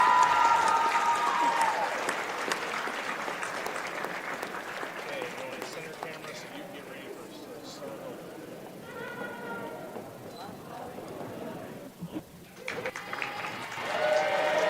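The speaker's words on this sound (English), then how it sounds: "Let's give a round of applause for our senior, Haley Marinix." A gym crowd at a high school girls basketball game applauds a senior player, loud clapping at first that thins out, with cheers, voices and a whistle-like squeal, then swells again at the end.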